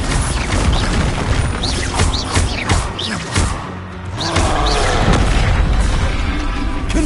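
Repeated Bombarda blast spells from Hogwarts Legacy boom and crash loudly, a rapid series of explosive impacts with magical whooshes and rumbling debris.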